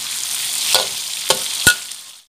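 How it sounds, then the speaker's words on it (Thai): Pieces of beef frying in hot oil for Thai salted fried beef, a steady close sizzle with a few sharp pops and stirring clatters before it cuts to silence. "ส่วนชิ้นใหญ่เราลงก่อนก็ใช้เวลาสักพักนะคะเริ่มเหลืองปุ๊บเราใส่ชิ้นเล็กไปเลยนะคะ"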